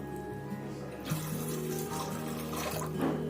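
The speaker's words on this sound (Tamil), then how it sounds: "பாருங்கள், தண்ணி ஊற்றிக்கிட்டேன்." Around 400 ml of water poured into a pressure cooker, a continuous splashing trickle with a brief stronger gush partway through, close and fairly quiet.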